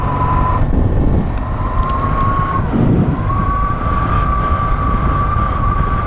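A Honda NT700 Deauville motorbike pulls away on a road trip, its engine a steady, loud, close rumble with a drawn-out tone that shifts in pitch, running without pause and with no talking.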